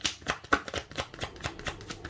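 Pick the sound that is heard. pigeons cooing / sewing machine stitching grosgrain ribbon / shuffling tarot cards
shuffling tarot cards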